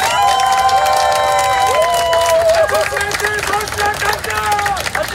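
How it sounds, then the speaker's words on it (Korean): Crowd at an outdoor election campaign rally in Sinchon, Seoul, cheering and clapping loudly, with a voice speaking over the applause and shouts rising from the crowd. "뜨거운 박수 다시 한번 환영해 주시기 바랍니다"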